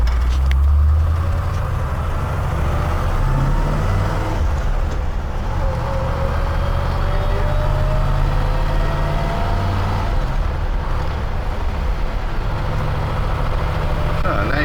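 Interior road noise from a 1960 Chevrolet Impala hardtop coupe with a bench seat and column shifter, a steady low engine drone and tire rumble holding throughout as the car cruises in traffic, with a voice speaking briefly over it.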